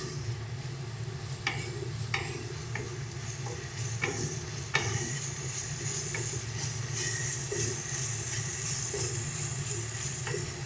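Spices being sautéed in a pan for doi katla: a continuous close sizzle and hiss, broken by intermittent clinks and scrapes of stirring.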